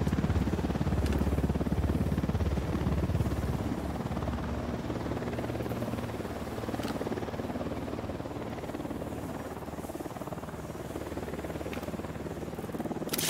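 An enemy helicopter in the video game Ghost Recon Wildlands, its rotor thudding and engine droning loud and continuous, strongest at first and then easing slightly as it hovers, with no voices over it.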